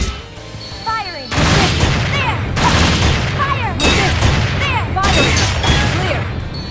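Gunfire in the PS4 role-playing game Dark Rose Valkyrie comes as loud, repeated blasts in several heavy bursts, with voiced character lines woven between the barrages.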